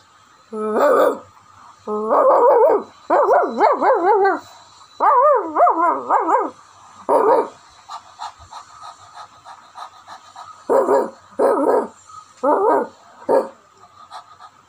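A performer at an online school arts festival imitates a dog with the voice, giving repeated loud bursts of barks and panting-like yelps in clusters, separated by short pauses, heard alone without talk.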